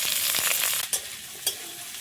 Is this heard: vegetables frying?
yes